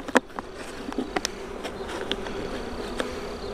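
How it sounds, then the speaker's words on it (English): Honeybees flying around and into a small corrugated nuc box used as a swarm trap outdoors, a soft continuous buzz with several louder close passes and bumps as individual bees zip near, no voices. "you should start seeing bees fly right in that"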